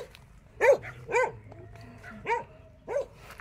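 A dog barks four times at a moderate distance on a farm, spaced irregularly with short pauses, over faint outdoor background noise.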